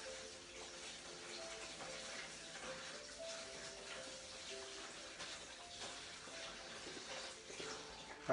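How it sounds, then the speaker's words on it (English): A kitchen or bathroom tap runs steadily while hands are rinsed under it, a faint continuous watery hiss lasting the whole stretch with no talking. "So I'm just going to quickly rinse my hands."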